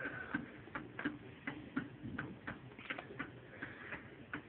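An E. Ingraham shelf clock from around 1878 ticks steadily at close range, each sharp tick evenly spaced roughly every third of a second against a quiet room.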